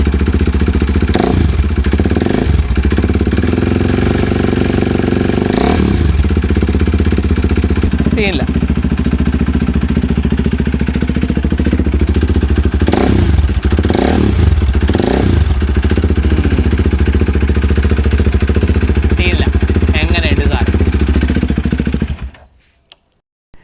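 A BS3 KTM RC 390 race motorcycle with carbon fibre body and trumpet revs hard and loud for over twenty seconds, its engine climbing and dropping repeatedly, while someone talks over it before it cuts off abruptly.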